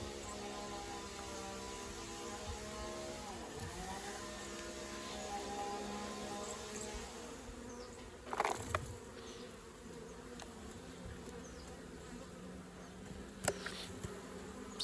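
Honey bees buzz steadily around a mini nucleus hive in a backyard apiary, a faint continuous hum with a couple of brief knocks on the hive box partway through.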